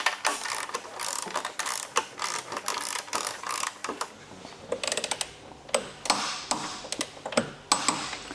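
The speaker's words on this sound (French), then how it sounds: "Je vais venir serrer de l'autre côté. Donc à la clé dynamométrique." A torque wrench ratchets while tightening the wheel axle of a track-prepared motorcycle, with repeated close, crisp clicking bursts in an uneven rhythm.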